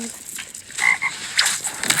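A summoned frog croaks in a Jujutsu-themed video game, giving several short, fairly close croaks over a faint background of game sounds.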